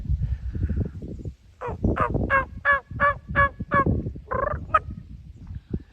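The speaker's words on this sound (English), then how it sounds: "Oh, I hear them purring now. I hear them purring, talking." Wild turkeys give a run of soft, rolling purrs and clucks, several short calls in a row, close by over low rustling background noise.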